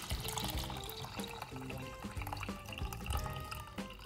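Tap water running in a kitchen sink while beef is rinsed under it, a steady close splashing stream with clinks and bumps of handling mixed in, fairly loud and continuous with no talking.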